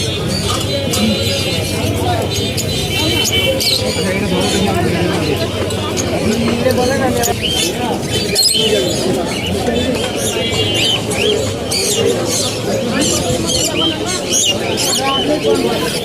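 At the Mirpur 1 bird market in Dhaka, many birds chirp and tweet and pigeons coo steadily over a busy crowd's babble, a dense, constant wash of calls close by throughout.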